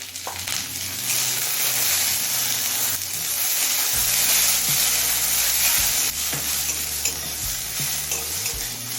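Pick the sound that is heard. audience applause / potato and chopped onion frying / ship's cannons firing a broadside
potato and chopped onion frying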